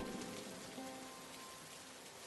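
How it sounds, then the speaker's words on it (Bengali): Rain falls softly in a steady, faint patter, distant and even, with no talking. "দু এক ফোঁটা বৃষ্টি পড়ছে"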